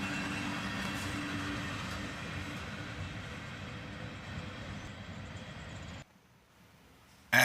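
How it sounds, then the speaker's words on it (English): A long freight train of grain and tank cars rolls past, its rumble and rattle steady and close, ending with a single tanker car at the tail. The noise drops away sharply near the end, leaving near quiet. "the tail end of this train would pass us by, brought up by a single Procore tanker car"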